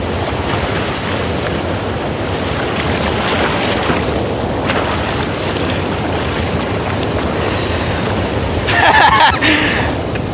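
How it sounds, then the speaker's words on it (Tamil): Lower Bhavani waterfall at Bhavanisagar pours in a loud, steady broadband rush of flowing water, continuous throughout with a slight surge near the end. "எங்கள் ஊர்லேயே இப்படி ஒரு அருவி இருக்குது மக்களே, கீழ்பவானி அருவி."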